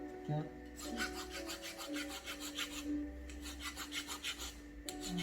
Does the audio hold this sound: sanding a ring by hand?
yes